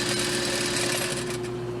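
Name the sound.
sewing machine sewing a seam with back stitch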